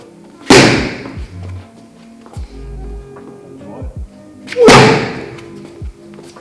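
Two heavy punches thrown with full body weight land as sharp, loud thuds about four seconds apart, with quieter shuffling and small knocks between them.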